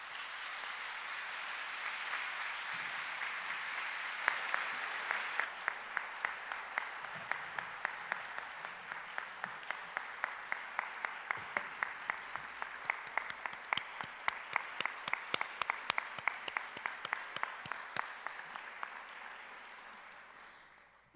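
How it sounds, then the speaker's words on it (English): Sustained audience applause for graduates at a public service scholar graduation ceremony, steady dense clapping that builds and continues for about twenty seconds, with a few individual sharper claps standing out near the end. "Let's give our graduates a round of applause."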